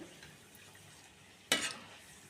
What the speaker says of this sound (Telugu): వేరుశనగపప్పు ఏదన్నా వేసుకోండి కొంచెం గోల్డెన్ కలర్ వచ్చేంత వరకు ఉంచుకొని తీసేసుకోండి